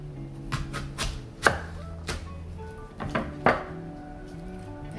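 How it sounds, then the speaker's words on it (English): Knife strikes on a cutting board chopping an onion, a handful of separate chops with a couple of louder thuds, close up against a low steady hum. "This is like a lot of choppings, but this is the most time-consuming part."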